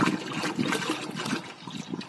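Liquid microorganisms are poured into water to make bocashi compost, giving a continuous close splashing and gurgling stream.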